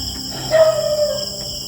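A single drawn-out dog howl rises over a steady hum of game ambience in a farm setting within a video game, fairly close and brief.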